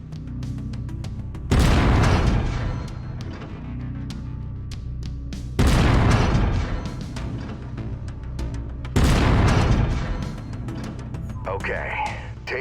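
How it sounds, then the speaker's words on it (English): Autocannon fire in the video game MechWarrior 5 comes as three heavy booming bursts spaced a few seconds apart, each loud and resonant with a lingering rumble, over a steady game background hum. "I've mapped the autocannon to Weapon Group 1. You're free to fire whenever you're ready."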